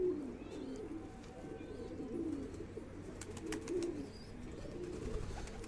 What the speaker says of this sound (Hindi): बड़ा बदतमीज कबूतर